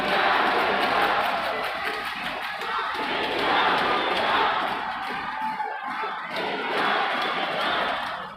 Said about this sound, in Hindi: दर्शक दीर्घा से लगातार इंडिया जीतेगा के नारे सुनने को मिले।